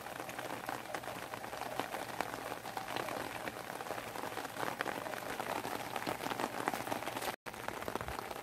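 Rain falling in Jeju: a steady, dense patter and hiss of drops on surfaces, continuous and fairly loud throughout, with one very brief dropout near the end and no speech.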